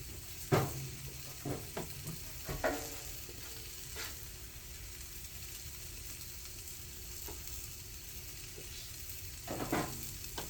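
Steelhead fish sizzling on a hot cooking surface, a steady soft frying hiss throughout with occasional clinks and scraping taps of utensils over it.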